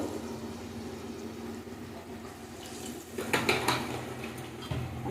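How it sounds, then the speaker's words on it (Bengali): Water pours into a cooking pot for a curry of bottle gourd greens and koi fish, a soft splashing with light metallic clinks of utensils, fairly quiet and close. "একটু জল লাগবে আর একটু জল দেবো"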